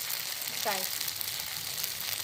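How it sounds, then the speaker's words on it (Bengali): Bengali-style masala tawa fish frying on a flat griddle, giving a steady, close sizzle and hiss throughout with a brief faint vocal sound near the middle. "চলুন আর একটু ভেজে নিয়ে নামিয়ে নেবো এই তাওয়া ফিস"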